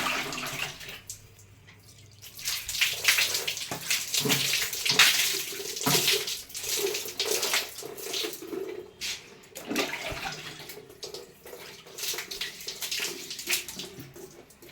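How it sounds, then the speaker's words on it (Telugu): Water is poured over stainless steel utensils during cleaning, making irregular gushing and splashing that swells and ebbs at moderate volume, with no one speaking. "ఇప్పుడు ఇంకా వాటర్ పోసి చూపిస్తాను నేను ఎలా అవుతుందనేది."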